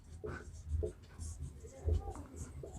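Pen or chalk writing out a formula during a Hindi maths lesson on surface area, with short scratchy strokes in bursts that are heard with faint room noise.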